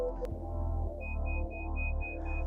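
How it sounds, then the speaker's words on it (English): On a 2025 Isuzu mu-X, the front parking sensor warning sounds as a steady series of short, evenly spaced beeps, clear and close over a low cabin hum, with no talking. "So the front sensor is a low pitch, the rear sensor is a high pitch."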